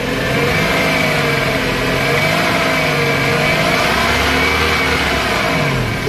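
A 1997 Opel Vectra engine with an automatic gearbox fault revs steadily and loudly up close, holding a continuous mid-pitched drone with slight rises and falls and no voices over it.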